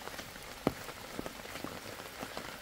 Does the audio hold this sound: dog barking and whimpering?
no